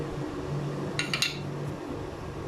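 A spoon clinks against a bowl while egg yolks are stirred into mayonnaise for stuffed eggs, a few bright metallic taps in a short cluster over a soft, steady background.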